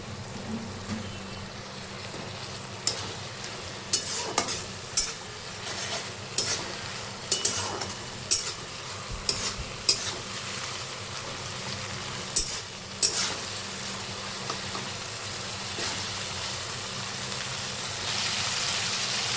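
Dried chilli paste and a little schezwan chutney frying in a wok for street-style egg chowmein, with a constant sizzle broken by sharp, irregular scrapes and clanks of a spatula stirring.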